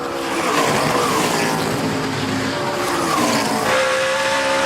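A NASCAR Sprint Cup race car works through the S-curves of a road course, its engine roaring loudly and steadily, with rising and falling tones as it shifts and takes the corners.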